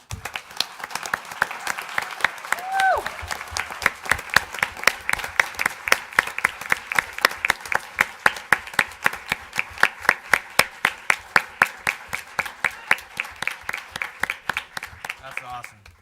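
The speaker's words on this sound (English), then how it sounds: "Let's give them a round of applause." Applause at a city council meeting honoring a parks and recreation department award, scattered at first and building into sharp, fairly close individual claps that continue for a long stretch.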